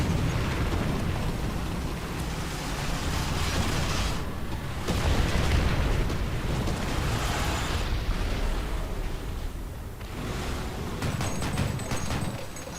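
A big explosion going off close by during a War Thunder ground forces tank battle, a loud continuous rumbling roar with heavy low boom and crackle that swells and fades over several seconds.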